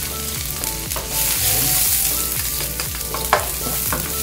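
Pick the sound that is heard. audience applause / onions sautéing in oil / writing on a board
onions sautéing in oil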